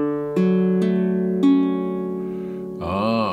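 Three separate strums on a Pahu Kani custom baritone ukulele of traditional body design, each chord ringing out and slowly decaying, with a brief rising voice-like sound at the very end.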